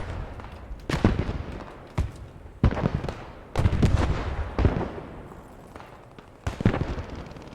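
Grenade and other explosions in the WWII shooter Post Scriptum: a series of sharp, booming blasts, about six spread over several seconds at irregular intervals, some close and loud, each trailing into a short rumble.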